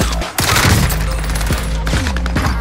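Video game gunfire crackles in rapid bursts, a quick run of sharp shots at the start followed by several more spaced cracks, loud and close.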